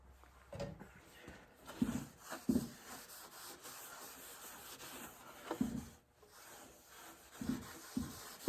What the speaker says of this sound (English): We're still going to give it a little bit of a quick sand